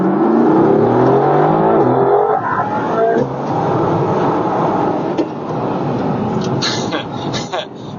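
A Mercedes-AMG GT R with a 577-horsepower, 4-liter V8 drives along. The loud engine rises in pitch under acceleration, then settles into a steady rumble and road roar while a person talks over it.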